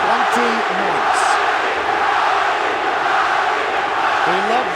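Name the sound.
arena crowd booing at UFC fight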